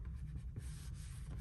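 A bone folder rubbing along folded paper for a magnetic explosion box, a soft continuous scraping swish that lasts about a second and a half.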